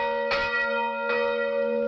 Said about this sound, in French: avant que les cloches de Pâques ne résonnent